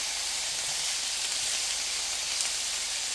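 Grouper fillet sizzling steadily in a hot pan just after flipping, a constant close hiss of frying with no talk over it.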